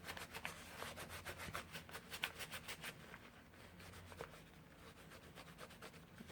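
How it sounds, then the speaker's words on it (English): A leather wallet is buffed with cotton t-shirt scraps in quick, rhythmic rubbing strokes, close and fairly quiet, with the strokes slowing into a softer, uneven scrubbing. "it's just plain cotton t-shirt scraps, and those work perfect for buffing."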